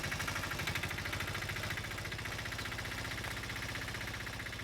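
A vehicle engine idles after the vehicle stops, a steady rumbling drone with a regular pulsing throb throughout, fairly loud and constant with no voices.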